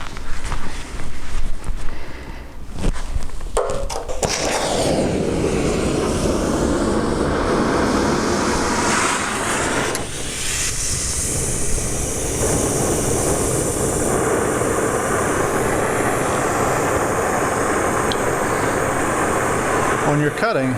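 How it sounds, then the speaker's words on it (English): An oxygen cutting torch roars loudly and steadily as it cuts through an exhaust pipe on a Jetta, a broadband hiss sustained after a few seconds of clattering setup, close and continuous. "When you're cutting, you want to have a nice little blue flame coming out about 1/4 inch, enough oxygen to do your cutting."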